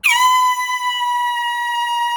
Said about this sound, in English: it looks like this guy's using some kind of air horn to fix his Joy-Cons